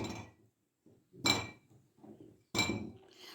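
Plums packed by hand into glass jars, giving two sharp glassy clinks a little over a second apart among softer handling knocks, close and fairly quiet with no talk.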